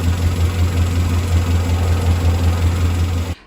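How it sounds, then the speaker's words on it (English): Ford Coyote V8 engine running with a fault after oil pump gears were installed, a loud steady idling drone with a low rhythmic vibration, heard close and alone until it cuts off. "we had some noise right after we put the oil pump gears in"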